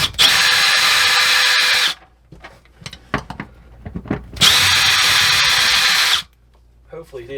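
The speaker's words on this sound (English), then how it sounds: "So let's get this one unscrewed from the floor." A power drill unscrews screws from a floor in two loud, sustained whirring bursts, separated by a quieter stretch of clicks, handling noises and people talking.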